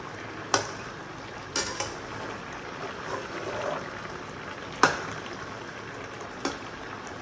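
White poppy seeds cooking in a little ghee in a pan, with a faint steady sizzle broken by several sharp metallic clinks and scrapes of a spoon against the pan.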